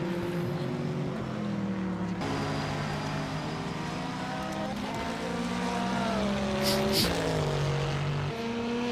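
Race cars at the Daytona 24 Hours, a Corvette among them, roar steadily with layered engine tones that rise and fall as cars pass, loud and continuous throughout.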